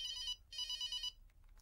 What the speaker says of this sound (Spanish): ¡Que me suena el móvil!